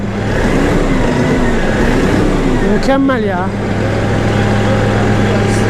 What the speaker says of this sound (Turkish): Çok stabil çalışıyor. Çok düzgün çalışıyor traktörün motoru.